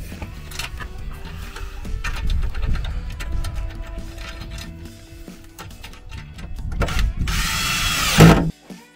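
A power screwdriver drives and tightens a screw for good, whirring loudly and steadily for several seconds before a final rising burst as it seats, then stops abruptly; close by, with no speech.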